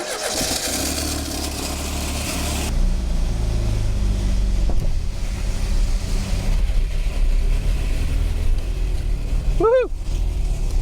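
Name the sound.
old Triumph Dolomite car engine running while driving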